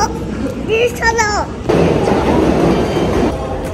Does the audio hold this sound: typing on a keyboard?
no